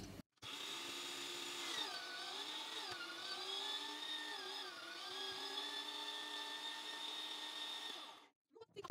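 An electric meat grinder mincing pork neck whirs with a steady high motor whine that dips in pitch several times as it labors, starting and stopping abruptly, close and alone.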